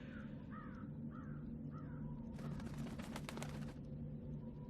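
In the video game Dreamfall, a crow gives three hoarse caws in a row, followed by a burst of fluttering flapping, all faint against a low ambient hum.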